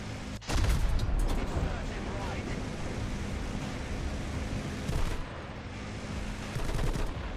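Sustained 7.62 mm machine gun fire from an M60-type weapon on a T-84 Oplot-M tank in War Thunder, a loud dense roar of rapid shots that runs nearly continuously with brief breaks.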